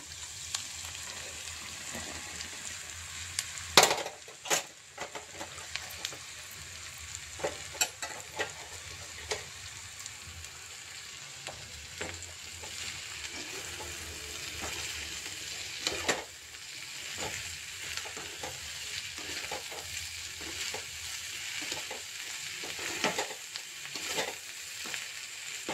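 Cut okra frying in a pan with onions and turmeric, a soft continuous sizzle with scrapes and clinks of a spatula stirring, a few sharp knocks against the pan early on, heard close with no talk.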